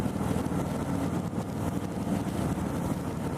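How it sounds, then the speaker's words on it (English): A 2018 Harley-Davidson Fat Boy 114 cruiser engine runs at around 2200 RPM with a loud, steady, deep rumble that continues unbroken throughout, with no talking. "This bike always wants to make some noise."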